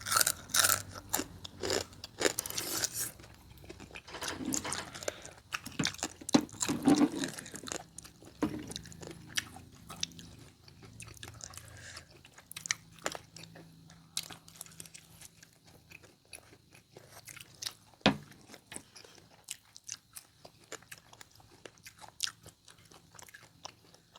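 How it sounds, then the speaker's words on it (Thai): Close-up chewing of a crunchy Thai spicy squid salad: irregular wet crunches and bites, loudest at the start, then softer, sparser mouth sounds and small clicks over a quiet background. "หมึกกรอบดีขนาด นึบๆเลย"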